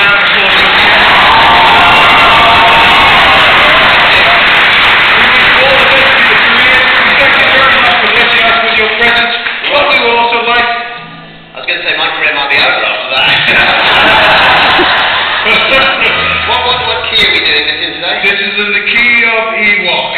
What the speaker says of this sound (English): I'd like you to give a round of applause.